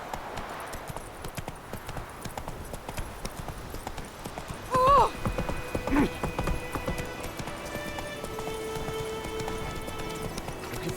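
Roach the horse galloping in The Witcher 3: Wild Hunt on Xbox Series S, a steady rapid drumming of hooves close by, with a brief whinny-like tone and faint game music lines partway through.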